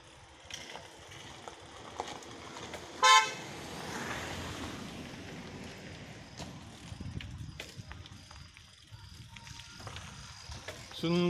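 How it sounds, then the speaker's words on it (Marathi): A car on a rural road passes a cyclist and gives one short, loud horn toot. Faint road and wind noise continue around it. "समोर नाही गाडी येते, त्यांना जाऊ दे।"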